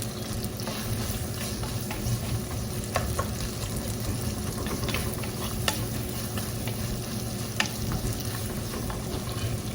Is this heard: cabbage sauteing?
yes